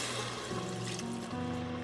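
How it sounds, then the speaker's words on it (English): Three cups of water are poured into a jar of Louisiana-style dirty rice mix, giving a steady, gurgling pour whose pitch rises as the jar fills, with no speech. "Now add 3 cups of water."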